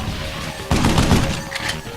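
A burst of rapid gunfire crackles loudly for over a second amid busy background game noise in Vanquish.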